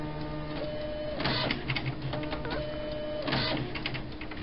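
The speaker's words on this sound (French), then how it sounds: "moi je vais refaire une impression" Printer running a print job: steady mechanical whir with rhythmic clicking and two louder grinding feed passes, moderately close and continuous, no voices.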